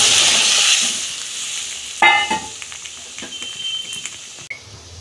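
Cooked dal, two kinds mixed, is poured into hot fried tempering, giving a loud sizzle that drops to a gentle bubbling fry after a sharp splash of liquid, with a few soft stirring clinks.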